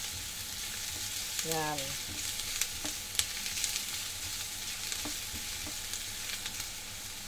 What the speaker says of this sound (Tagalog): Fry natin para mag-brown siya. So, ayan. Let's fry para bumango.